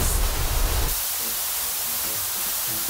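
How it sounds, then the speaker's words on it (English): A white noise test tone plays inside the Fairlight page of DaVinci Resolve, a steady hiss that starts louder and brighter, then drops to a flatter, smoother level after about a second and continues evenly. "White noise."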